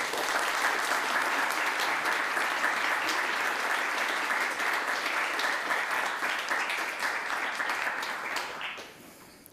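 A large audience applauds steadily for several seconds to welcome author Laurie King at a library story hour event, the clapping dense and even before tapering off near the end.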